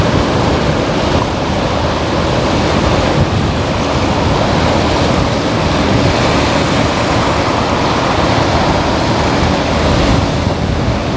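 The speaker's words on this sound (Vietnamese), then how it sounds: "Quá sóng rồi hôm nay." Rough sea waves churn loudly and steadily around an anchored boat, a dense broadband wash with wind buffeting the microphone, continuous for the whole stretch with no speech.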